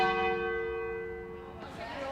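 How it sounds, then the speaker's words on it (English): Church bells at All Souls in Bolton ring out with a sustained, resonant tone across the town, fading gradually before another strike. "the bells are ringing out across the town of Bolton"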